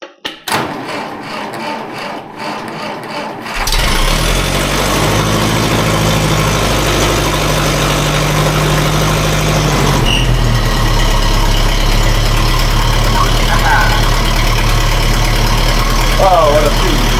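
A Massey Ferguson MF35 tractor, run again after a year standing idle, starts and settles into a steady, loud idle out of gear. It keeps a low, even chug that runs on to the end.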